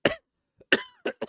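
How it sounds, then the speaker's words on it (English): A man coughs in short bursts: one cough, a brief pause, then a longer harsh cough followed by two quick coughs, close and clear with no other sound. "See, I'm coughing."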